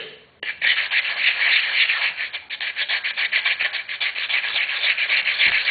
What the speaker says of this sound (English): all the balsa is going to sand away, and the indentation is going to be filled